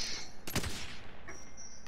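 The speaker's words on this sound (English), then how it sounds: "I'm gonna shoot him." A single loud gunshot cracks close by in Call of Duty: Modern Warfare, a short sharp burst amid a low, rumbling game background, with no talk over it.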